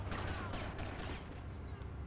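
Gunfire in Grand Theft Auto: Vice City during a shootout aboard a ship, a dense, steady stream of shots over continuous game noise, with voices faintly present underneath.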